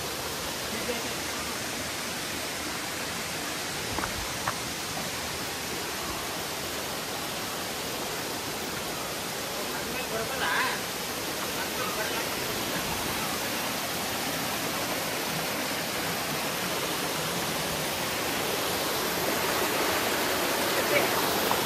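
Abbi Falls waterfall at Magajahalli roars with rushing water as a steady, dense wash of noise that holds unbroken throughout and swells slightly toward the end.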